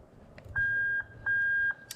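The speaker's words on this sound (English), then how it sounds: "you can see that little beep of the reverse switch" Three short, high electronic beeps from a car's reverse switch warning at steady intervals, each lasting about half a second, clear over a faint low hum.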